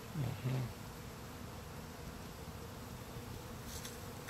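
Steady low buzzing of bees hums close by, continuous throughout with a louder burst at the start.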